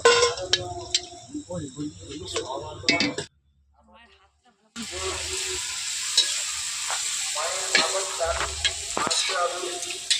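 Golgappa puris frying in hot oil, a steady sizzle with bursts and crackles, broken by a short quiet gap before the loud frying resumes; stirring clatter and brief speech-like sounds over it.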